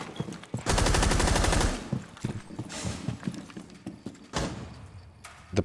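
Rapid automatic gunfire from a first-person shooter video game, a dense burst followed by scattered single shots and shorter bursts, loud and without talking.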